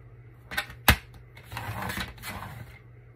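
A paper trimmer cutting a 12x12 craft page at the 6-inch mark: a couple of sharp clicks, then a short rasping slide of the blade across the sheet, close and fairly quiet.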